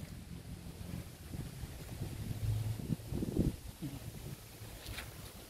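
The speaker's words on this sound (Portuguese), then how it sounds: "Está ventando bem. É um vento maravilhoso." Steady wind rushing across the microphone, with low rumbling gusts rising and falling throughout.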